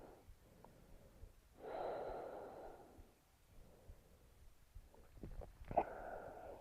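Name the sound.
slow breathing during yoga practice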